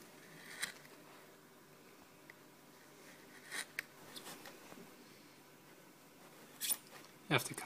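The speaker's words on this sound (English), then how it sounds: "So just trim down the rubber on the edge of the valve." Rubber trimmed away around a tubeless bicycle tyre valve stem: quiet, scattered snips and small scraping cuts, with a few sharper clicks near the end, in a hushed indoor setting.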